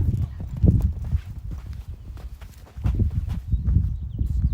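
Rhythmic hoofbeats of a horse moving at a steady gait over soft ground toward a jump during a warm-up, fairly close, without any talking.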